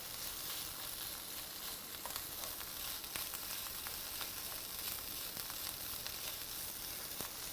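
Shrimp frying in a pan for pasta, giving a steady, even sizzle that crackles softly throughout, with no voices.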